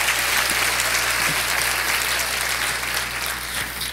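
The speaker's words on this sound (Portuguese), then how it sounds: "Você pode dar uma salva de palmas ao Senhor" Continuous applause from a crowd, dense and even in loudness, with a low steady hum underneath.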